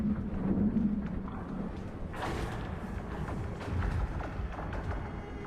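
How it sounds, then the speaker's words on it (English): Moving lake ice on one of the Great Lakes gives off faint, diffuse rumbles, thuds and scattered crackling pops, a low rolling wash with no voices. "The constant movement of ice creates a storm of otherworldly sounds."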